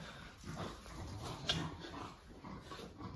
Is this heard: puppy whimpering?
yes